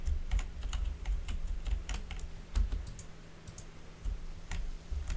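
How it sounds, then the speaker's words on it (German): Fast typing on a computer keyboard sounds close and crisp during a PC game session, with irregular bursts of key clicks over a low background hum. "Ich glaube, man hört meine Tastatur"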